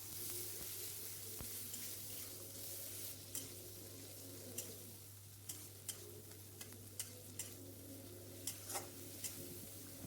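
Fried onion sautéed with ginger and garlic paste in a pan, a steady low sizzle under a constant hum, with repeated sharp scrapes and clicks of a spoon stirring through the mixture, fairly quiet throughout.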